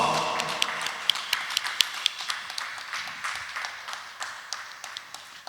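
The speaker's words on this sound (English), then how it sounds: "please join me in giving them a loud round of applause" A round of applause at a gavel club officers' installation night, a fairly faint, steady patter of scattered claps in a room with no voices over it.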